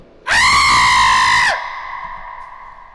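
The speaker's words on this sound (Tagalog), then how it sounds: "May sumigaw." A single long, loud human scream echoes in a dark sewer tunnel, piercing and sustained for over a second, then cut off and followed by a fading reverberant tail.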